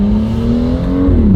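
A BMW M2 F87 fitted with a new intake runs with a steady, loud, close engine drone that climbs slightly in pitch, then drops off near the end. No one speaks.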